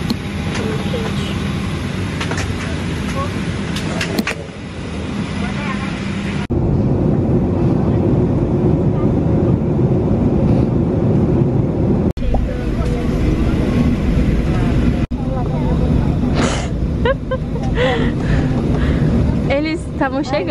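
Steady broadband cabin rumble inside a hot airplane before a trip to Ilhéus, continuous throughout with brief level shifts, while people talk over it.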